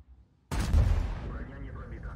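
A tank cannon fires in a tank video game, one sudden loud boom with a long rumbling tail after a near-silent moment.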